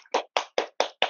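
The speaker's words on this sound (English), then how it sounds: "give Davie a wee round of applause if you might be so inclined to do that." One person in an online meeting claps, five sharp, evenly spaced claps close to the microphone, loud and isolated with silence between them.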